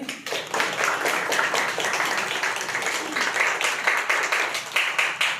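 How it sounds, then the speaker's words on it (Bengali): A crowd applauding for Shubhajyoti at a gathering: many hands clapping in a dense, steady wash that continues evenly from start to finish. "আমাদের শুভজ্যোতির জন্য সবাই একটা হাততালি"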